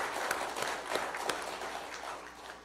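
A church congregation gives the Galilee choir a short round of applause at a Sunday service, a soft, diffuse patter of many hands with a few sharper claps, heard from a distance and fairly quiet.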